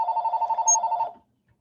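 A telephone bell rings in a rapid trilling burst of about a second, fairly loud and close, then stops into silence.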